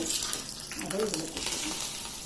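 Curry leaves and dried red chillies crackle in hot coconut oil as a jackfruit eriseri is tempered, a steady close sizzle with soft stirring clinks and no talk.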